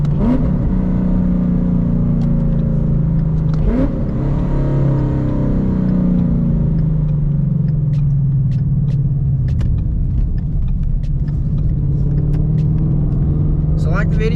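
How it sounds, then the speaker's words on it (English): A 2015 Mustang engine rumbles and revs up and down through manual downshifts, a steady mid-pitched drone rising in repeated swells, heard from inside the car with a voice talking over it. "So get you some downshifts in before we sign off."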